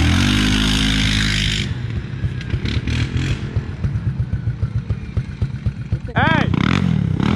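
A Grizzly four-wheeler ATV engine revs and sputters in rapid pulses after a loud roar at the start, ending in a sharp burst, with people talking nearby.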